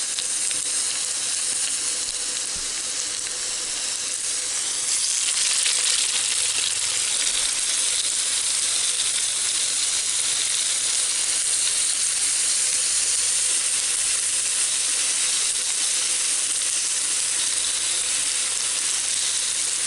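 Fish burgers made with garlic, cilantro and onions frying in a pan, giving a loud, steady, close sizzle that runs unbroken and swells slightly partway through.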